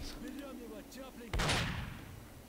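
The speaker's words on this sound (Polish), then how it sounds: "Ale ktoś tu strzela" A single gunshot or heavy blast booms in S.T.A.L.K.E.R.: Shadow of Chernobyl, loud and abrupt, then rings out and fades. Before it, someone speaks over faint game ambience.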